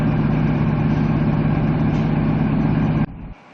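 A loud, steady low engine hum from an XPT passenger train idling before departure from Brisbane drones close by for about three seconds, then cuts off sharply to a quieter idle that fades out.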